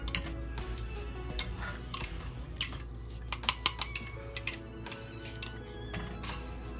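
Utensils clink and scrape against dishes as a sauce for boiled asparagus is mixed, with quick, irregular taps close by over a low background hum.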